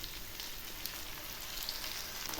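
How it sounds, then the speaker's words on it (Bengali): Cauliflower florets deep-frying in hot oil until crisp, giving a steady, even sizzling hiss close by with no voices. "কপিগুলো আর একটু ভেজে নেব, একদম কড়া করে ভেজে নেব"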